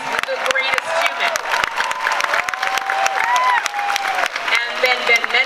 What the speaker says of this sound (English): let's applaud him, because he's the greatest human